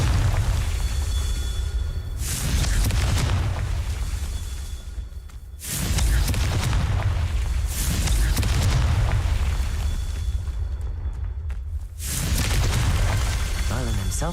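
Confringo blasting spell going off in Hogwarts Legacy, loud booming bursts repeating about every three to four seconds, each a heavy explosive roar with a whooshing tail.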